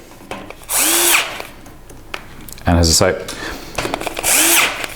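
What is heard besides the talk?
power drill driving screws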